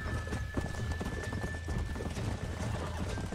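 Horse hooves clip-clop steadily in Red Dead Redemption, a continuous close trotting rhythm over a constant game background hum with no talk.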